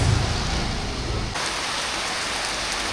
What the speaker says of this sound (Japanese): カトマンズ朝からすごい雨ということで